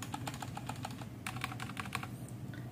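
Typing on an E-YOOSO Z11 RGB hotswappable 60% mechanical keyboard, a quick run of crisp close key clacks in two bursts over a low background hum, no talking.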